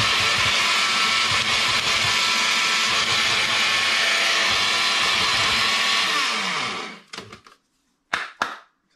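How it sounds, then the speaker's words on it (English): Blender at full power grinding dried vegetables into powder during autumn harvest preserving in the UK, a loud, steady, dense whirring roar for about seven seconds before it cuts off, followed by a few short bursts. "So we'll blend it into a powder."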